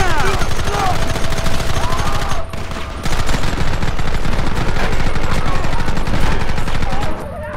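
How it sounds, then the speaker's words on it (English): Gunfire fills a battle in the video game Red Dead Redemption, with loud, dense rapid shots and volleys running almost continuously, and a brief lull partway through. Game voices shout over the shooting. "Targets on the horizon. Fire at will!"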